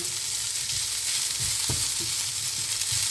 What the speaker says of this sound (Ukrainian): Обсмажую макарошки